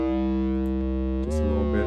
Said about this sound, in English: Got some distortion. Got some EQ. Got flanger.